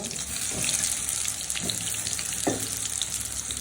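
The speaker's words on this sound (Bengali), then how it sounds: "আমি হচ্ছে এখন পটলগুলো ভেজে নিচ্ছি" Pointed gourd pieces frying in oil give a continuous crackling sizzle, with a few brief clinks of utensils against the pan, moderately close and with no speech.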